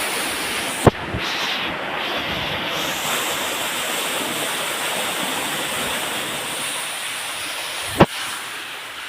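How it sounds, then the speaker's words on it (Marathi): Continuous rushing water gushes and splashes steadily from a burst return pipe, loud and close, with two brief sharp knocks cutting through. "हे रिटर्न पाणी येतं ते पाईपाचं"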